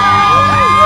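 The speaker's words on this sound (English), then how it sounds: "Let's get a cheer for Wrestle Club." A crowd at a Wrestle Club pro wrestling show at the Boise Comic Arts Festival cheers and whoops in a short, loud, dense burst of mixed voices.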